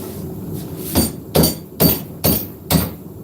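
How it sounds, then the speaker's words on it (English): Hammer blows on a blade at a forge: five sharp, ringing strikes at a steady, unhurried rhythm, close and loud, each with a brief metallic clink, no talking. "Hammer on that."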